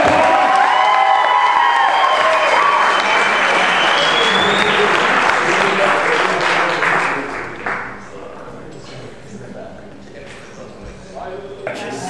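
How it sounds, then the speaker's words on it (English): Theater audience bursts into loud applause and cheering with whoops, a dense roar that fades after several seconds into quieter room sound and a few voices. "Give yourself a round of applause"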